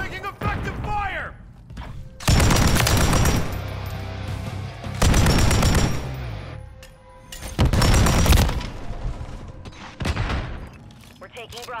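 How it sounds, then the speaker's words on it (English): Bursts of automatic gunfire and explosions in Call of Duty Modern Warfare 3 multiplayer, three loud clusters of rapid shots and booms separated by brief lulls, with faint game voices in between. "Taking effective fire!"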